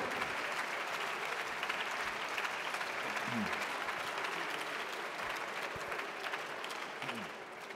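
A plenary audience at the MEDEF closing session applauds Emmanuel Macron alongside Pierre Gattaz, a steady, fairly distant wall of clapping that continues evenly throughout with faint voices mixed in.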